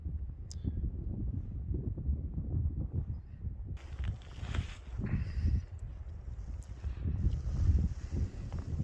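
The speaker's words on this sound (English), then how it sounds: "It's a little breezy." Breezy wind buffeting the microphone outdoors at a lake in Lake Superior Provincial Park, a constant low rumbling roar with gusty swells and a faint hiss of rustling above it.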